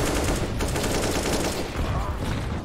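Dense, rapid gunfire in a professional Counter-Strike match, with overlapping bursts and shots crackling steadily and loudly for the whole stretch, barely easing near the end.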